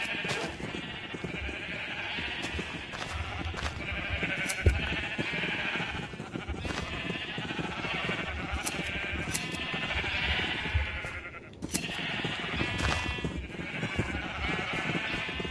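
Sheep in the Minecraft video game bleat repeatedly over a busy, loud game soundscape, with several bleats rising out of the steady background mix.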